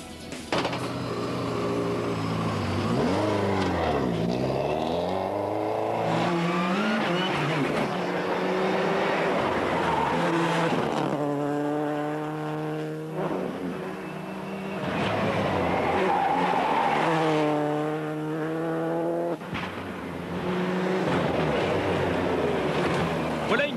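A Subaru Impreza rally car, Pirelli-shod, revs hard through a stage, its engine note rising and falling in repeated sweeps with gear changes, loud and close throughout without talk.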